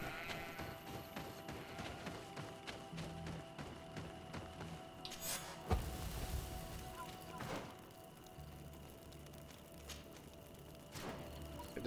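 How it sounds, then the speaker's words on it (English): A goat in the video game Greedfall gives a couple of short bleats amid quiet ambient background sound, with a brief louder thump partway through. "Is that a goat? Yeah, it's a goat."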